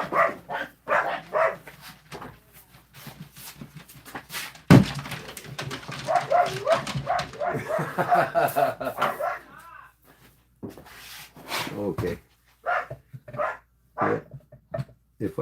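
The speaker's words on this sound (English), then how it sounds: "Damn dogs. They're barking at absolutely nobody." Several dogs bark in sharp, loud bursts, clustered toward the end, mixed with a man's nearby speech and some clattering.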